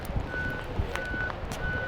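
Repeated electronic reversing beeps from a bus backing up near a high school football game, sounding at a steady interval from a moderate distance over a busy crowd and outdoor stadium background.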